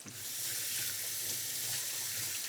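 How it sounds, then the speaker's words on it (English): Tap water runs steadily into a kitchen sink while hands are washed beneath it, a continuous close splashing hiss with no voices. "I'm gonna wash my hands"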